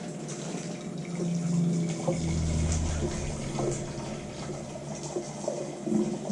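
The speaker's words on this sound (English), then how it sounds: "So now, boil some water for these rice vermicelli noodles that are going in." Water runs steadily from a kitchen tap as a pot is filled for boiling rice vermicelli noodles, a continuous splashing rush with a few faint clinks, no voices.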